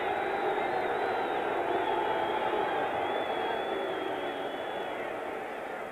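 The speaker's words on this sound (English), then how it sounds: "The crowd restless." Restless stadium crowd at a 1977 Rams–Saints NFL football game in New Orleans, a dense continuous roar of murmuring fans that fades slightly toward the end.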